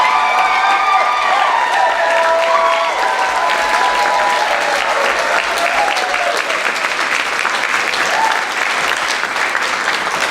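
Theater audience at a community stage show applauds and cheers steadily for a long stretch, dense clapping mixed with whoops and a few shouted voices, loud and sustained throughout.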